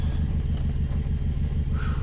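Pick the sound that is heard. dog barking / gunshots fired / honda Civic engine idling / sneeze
honda Civic engine idling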